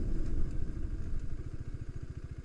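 A KTM motorcycle ridden along, its engine putting out a mid-pitched running drone that settles into a rapid, even pulsing throb, close and steady with no talking.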